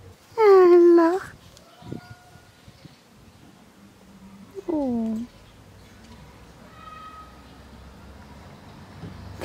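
A cat meows loudly twice up close, two drawn-out cries a few seconds apart with quiet room sound between.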